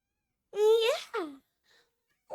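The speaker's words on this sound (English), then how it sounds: "My sweet Ellie girl followed me out going, meow, meow, meow." Pet cat Ellie gives two drawn-out, wailing meows close by, the first long and rising then falling, the second shorter, followed by a faint sound and the start of another call.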